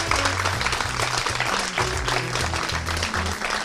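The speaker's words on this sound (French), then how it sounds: "Je voudrais que vous applaudissiez pour le groupe Castel," An audience applauds for the group Castel at an arts event, a dense sustained wash of clapping with a low voice heard faintly underneath.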